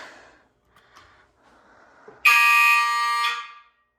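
Basement fire alarm system on test: after soft rustling, a loud, harsh electronic alarm tone blares steadily for about a second and a half, then cuts off and fades, close and dominant.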